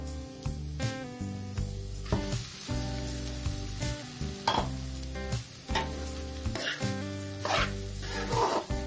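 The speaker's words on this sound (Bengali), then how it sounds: "আমি 1 মিনিটের মতো ভেজে নিচ্ছি।" Vegetables for Chinese-style vegetable fried rice sizzle and get stirred in a pan, with scraping strokes and a steady frying hiss running beneath prominent background music.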